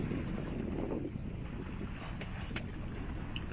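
A sailboat moves under sail at sea between Corsica and Sardinia, heard as steady wind buffeting and soft water rush against the hull, close and continuous without voices.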